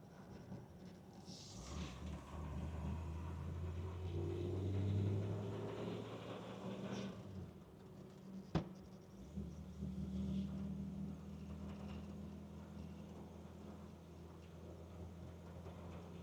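A restored 1949 Packard Touring 8 sedan rolling along in second gear after a downshift, a low, smooth engine rumble swelling and easing, with a single sharp click partway through.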